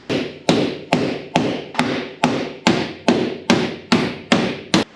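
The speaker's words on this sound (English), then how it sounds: "I'm gonna actually belt the firewall with my hammer to give a bit of clearance" A hammer strikes a vehicle's sheet-metal firewall about ten times in a steady rhythm, each blow a loud, ringing clang close by, with no talking.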